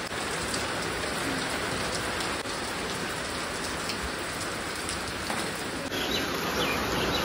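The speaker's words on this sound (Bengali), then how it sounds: "ভালো লাগছে বৃষ্টি" Steady rain pours down, a dense continuous patter of drops on surfaces with no pauses, close by and fairly loud throughout.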